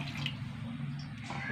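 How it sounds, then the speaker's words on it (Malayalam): Water pours into a pot of mango pulissery made with small ripe mangoes. A short, continuous trickling splash of liquid sounds close by, with no voices. "ആവശ്യത്തിന് വെള്ളം ഒഴിച്ച് കൊടുക്കുക"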